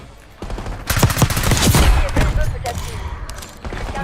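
Close, loud bursts of rapid gunfire from an AS VAL rifle in Call of Duty Black Ops 6, clustered shots rattling over a few seconds with a voice talking underneath.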